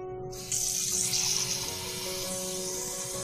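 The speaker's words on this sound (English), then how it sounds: "Put some cold water in it." Water gushes steadily from a tap, a continuous close splashing rush that starts abruptly and runs without pause.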